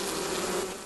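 A dense, steady hum of many honey bees buzzing close up at a hive with drones and a queen, continuous and fairly loud.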